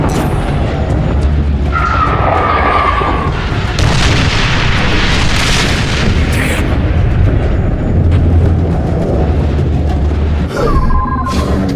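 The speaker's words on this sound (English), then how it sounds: "Fire support incoming!" Artillery fire-support explosions in The Bureau: XCOM Declassified, loud heavy booms and blasts crashing over a constant roar of battle, with a few brief tonal effects mixed in and no talking.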